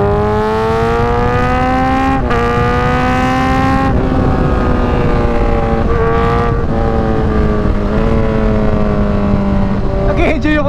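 A Kawasaki Z1000R motorcycle engine runs loud and close, a strong steady drone with pitch rising and dipping through a few revs and brief breaks.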